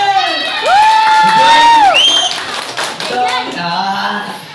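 An audience claps for a woman named Gretchen, with scattered hand claps under loud, sliding shouts and voices that dominate the moment.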